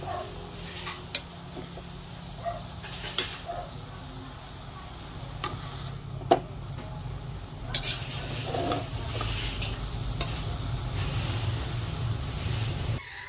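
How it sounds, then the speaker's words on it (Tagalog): Escabeche is stirred in a pan after a splash of vinegar, with scattered clinks and scrapes of a utensil against the metal over a continuous low sizzle, close and moderately loud. "At atin pong hahaluin."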